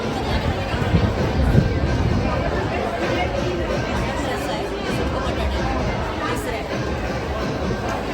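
Dense, steady crowd chatter fills a packed indoor food festival hall in Thane, many voices overlapping into a continuous hubbub, with an occasional clatter or bang close by.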